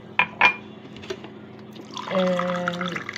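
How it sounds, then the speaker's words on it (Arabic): Water is poured onto sugar in a pot to make syrup for basbousa. Two glassy clinks come first, then a steady, rising stream fills the pot up close. "هننزل هنا على كوبايتين السكر ب3 كوبايات من الميه"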